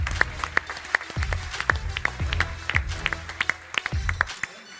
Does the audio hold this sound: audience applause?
yes